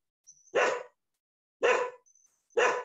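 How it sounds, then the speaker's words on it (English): A dog barks three times indoors, each bark sharp and loud, with short gaps of silence between them and no talk. "Hey, you are hearing my dog."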